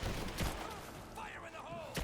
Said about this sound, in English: Give me suppressing fire! Now! He's hit! I'm taking fire!